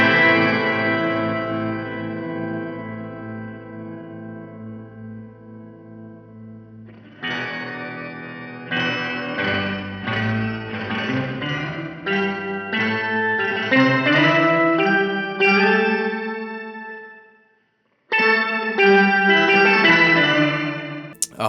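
Electric guitar played through a Keeley Verb O' Trem Workstation pedal in its Fugue octave reverb mode: a long ringing chord fades out, then a run of picked notes swells with roomy, shimmering octave wash, a brief silence, then more notes.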